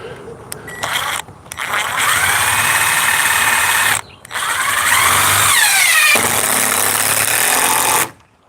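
A power drill drives screws into a board in several loud, close whirring bursts, the motor pitch rising and falling as each screw seats, with short pauses between runs.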